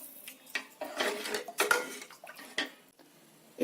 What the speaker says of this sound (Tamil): நான் 2 டம்ளர் தண்ணி சேர்த்துருக்கேன்.